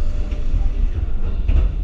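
The Monster roller coaster train at Walygator park roars past up close, a loud continuous rumbling rush of wheels on track with heavy low-end thunder that swells briefly near the end.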